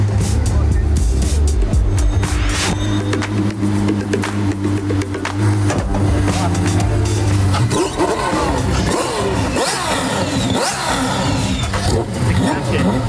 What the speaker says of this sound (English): The flywheel's so light that when it revs up, it just wants to come back down.